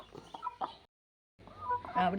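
Close chicken clucking in two bursts separated by a brief silence, with agitated fowl calls and some voices mixed in.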